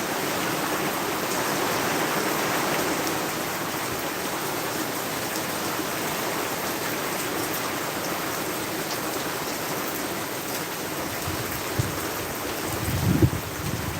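Heavy rain pours down in a steady, dense roar that stays loud and unbroken from start to finish, with a brief thump near the end and no voices.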